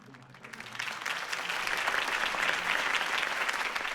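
A video game crowd in Batman: The Telltale Series breaks into applause, swelling quickly into sustained, dense clapping that carries on steadily without voices.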